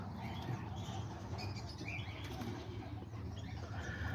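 Diamond doves in an aviary, with soft wing flapping and faint chirps over a steady background hum, no talking.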